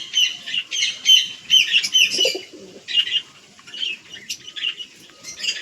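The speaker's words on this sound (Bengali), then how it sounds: "দেখো এবার পায়রাগুলো হাইট নিচে দাও খালি কতটা।" Domestic pigeons fly up at a home loft, with repeated bursts of chirpy calls and fluttering wings coming in quick, uneven clusters, fairly close and loud, with no voices.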